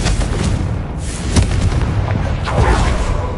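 Loud blasting explosions from the Confringo spell in Hogwarts Legacy on PS5, a dense, continuous roar of booms and bursts with several heavier impacts, no talking.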